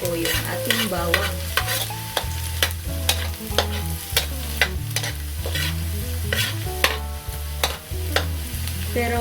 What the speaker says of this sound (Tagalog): Hahaluin lang natin ng hahaluin hanggang sa mag-brown na po yung ating bawang.